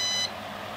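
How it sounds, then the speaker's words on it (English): A drone remote controller for the EXO Cinemaster 2 gives a short, sharp high-pitched power-on beep, close and clear, followed by quiet room noise. "Beep, beep."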